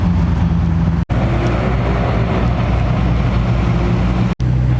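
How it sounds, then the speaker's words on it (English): A McLaren Senna supercar passing at an exotic car show in Newport Beach, producing a loud, close, continuous engine roar that stays steady and dense throughout, with no voices. "Look at that McLaren Senna."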